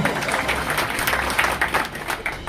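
Audience clapping at a New Year community gathering with a shared meal, a short burst of dense applause from a crowd, close and fairly loud.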